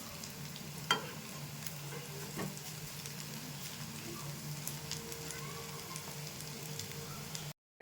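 Semolina and raw potato snacks fry on low heat, giving a soft, even sizzle with occasional faint pops that continues steadily until an abrupt stop at the end.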